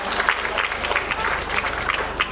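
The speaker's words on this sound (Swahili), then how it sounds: "Naomba tumpigie makofi aje achukue tuzo yake" Applause from a crowded audience at an award presentation during the opening of the 46th Sabasaba international trade fair, a steady dense clapping wash held throughout without pause.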